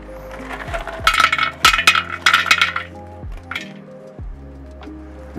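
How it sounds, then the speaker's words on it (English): Small rocks clink and clatter as they are dropped around the drain hole inside a flower pot, several sharp bursts of knocking over a quiet music bed, close and alone without talk. "we still want to add a few rocks down around this hole so it can drain out"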